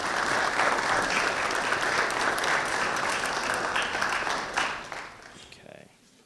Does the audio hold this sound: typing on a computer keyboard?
no